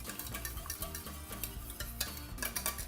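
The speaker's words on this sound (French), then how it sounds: "vous remuez, vous faites fondre le beurre, voilà, vous fouettez" Melted butter whisked into a reduced veal jus in a pan, soft continuous stirring and scraping with light metallic clinks, close and steady without talk.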